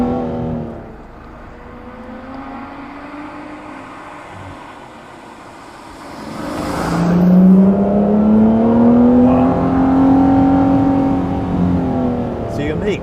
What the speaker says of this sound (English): it doesn't sound like any other Aston because I think it's the lighter flywheel, it just revs quicker.